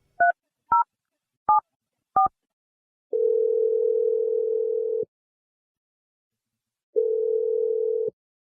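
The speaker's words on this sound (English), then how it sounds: "I'm going to dial his number right now." A telephone call dialed by hand: four short touch-tone beeps in quick succession, then two long steady tones separated by silence, clear and close with no voices.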